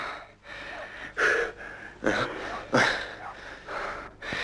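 Heavy gasping breaths in repeated bursts, about four sharp strained inhalations and exhalations, close and fairly quiet, with no talk.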